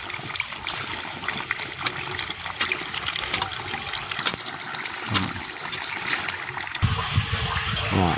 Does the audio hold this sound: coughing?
no